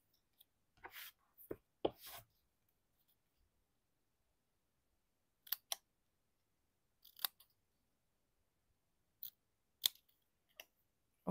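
Scissors cut a paper label into a pennant shape for a Halloween card, with crisp snips close up in short clusters and spaced bursts separated by silent pauses.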